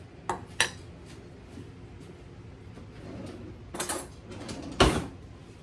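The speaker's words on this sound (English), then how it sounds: "I'm going to get me a little old knife" Small knife scraping around the metal sides of a cake pan, producing a few scattered clinks and scrapes close by, with sharper taps near the end and no talk.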